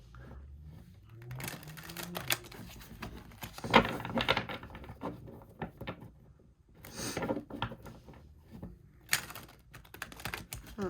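Tarot cards are shuffled by hand in quick, uneven bursts of papery riffling and patting, close and fairly quiet, with short pauses between rounds and no talking.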